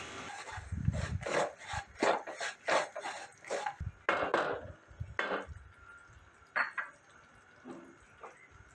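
Roasted peanuts being stirred into hot jaggery syrup for Marathi-style peanut chikki, giving a series of rhythmic scraping, rasping strokes up close, then slowing to a few sparse scrapes.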